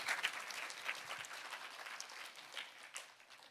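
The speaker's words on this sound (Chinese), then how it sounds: "相信的拍手把荣耀归给主" A church congregation claps together in steady, dense applause that holds at an even level throughout, with no voices standing out.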